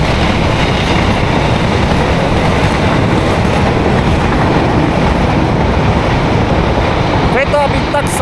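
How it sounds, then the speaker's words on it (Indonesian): A loud, continuous roar of the Taksaka passenger train rushing close by, steady throughout, with a faint horn-like tone near the end. "Ada kereta yang keren banget ini."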